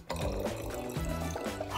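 Water is poured from one container into another during a classroom experiment, making a short, steady splashing trickle close by with no talk over it.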